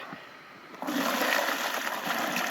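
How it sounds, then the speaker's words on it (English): Water poured onto a dry peat brick in a garden, a steady splashing, trickling pour starting abruptly after a quiet moment and continuing close up. "Just pour the water on it."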